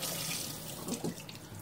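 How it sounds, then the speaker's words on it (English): Water runs from a tap to soak a makeup beauty blender sponge, a steady hiss of flowing water into a sink that fills the whole short stretch, close and fairly loud. "we're going to turn on the water"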